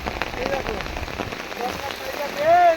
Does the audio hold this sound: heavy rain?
yes